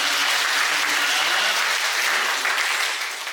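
Congregation in a church service clapping for a choir's song: a loud, dense burst of applause filling the room, steady and then slightly tapering at the end, with no talk over it.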